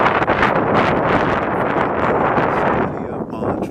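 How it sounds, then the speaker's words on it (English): Strong wind buffets the microphone on a downtown street in Montreal's Ville-Marie borough, a steady, loud broadband roar that fills the whole clip with only slight dips near the end. "And now it's really windy, so I don't know if you're going to hear everything I say."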